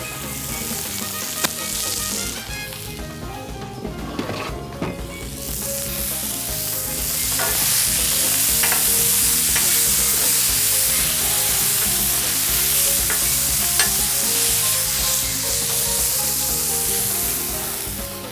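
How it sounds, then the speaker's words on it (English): Steak sizzling on a grill after a little oil, a steady loud frying hiss that swells and holds, with scraping and stirring clatter throughout and no talking. "Get the steak on the grill."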